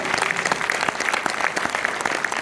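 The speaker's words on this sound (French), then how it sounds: "Merci de encore donner vos applaudissements à Anthony et à Anna." Audience applause at a film premiere screening in Orléans, a dense, steady wash of many hands clapping close and loud throughout, with no voices over it.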